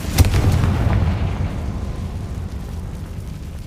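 A Confringo fire spell in the Hogwarts Legacy video game sets off a loud burst of an explosion. A deep rumbling boom follows and slowly fades over a few seconds.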